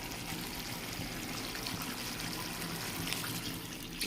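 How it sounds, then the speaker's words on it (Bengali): Hot water pours steadily into a pan of mustard and vegetable curry, a continuous close splashing trickle that runs alone for about four seconds. "এরপর গরম জলটা দিয়ে দেবো।"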